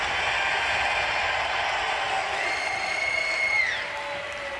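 At BlizzCon 2011, a large convention crowd cheers and applauds for the Horde in World of Warcraft. The roar is a dense, steady wash of clapping and shouting that fades slightly near the end.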